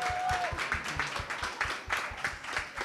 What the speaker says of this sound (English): Can I have a huge round of applause,